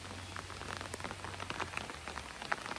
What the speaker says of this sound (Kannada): ಮಳೆ ಅಂತೂ ತುಂಬ ಜೋರಾಗ್ತಾ ಇದೆ.